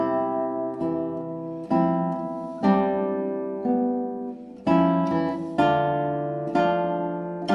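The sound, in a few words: guitar playing Sor's Etude 1 with equal beat accents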